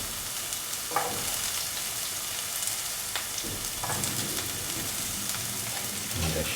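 Garlic and onions fry in a pan for a mushroom stew, a steady dense sizzle with occasional stirring scrapes and no talk.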